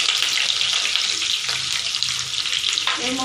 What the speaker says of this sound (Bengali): দিয়ে আলুগুলোকে আমি ভালোভাবে ভেজে নেব